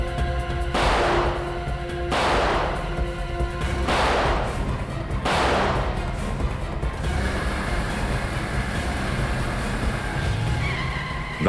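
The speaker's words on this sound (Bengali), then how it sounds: "গুলি চালা।" Gunfire in a CID TV crime drama chase scene: four loud bursts ring out at regular intervals, each decaying into a wash, followed by quieter engine and background noise without talking.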